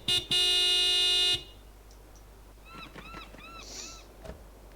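A van horn in the Broken Sword 5: The Serpent's Curse video game gives one long, loud, steady honk, followed by quieter chirping goose-like calls and a faint thud.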